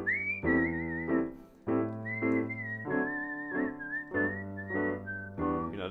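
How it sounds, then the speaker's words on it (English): A clear whistled melody with sustained wavering notes, carried over a strummed guitar and steady accompaniment. "there's that little whistle in the background"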